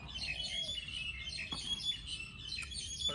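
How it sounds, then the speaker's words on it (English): Birds chirp loudly, with a busy mix of bright tweets and calls overlapping at close range, fairly dense throughout, with no talking. "Birds are loud."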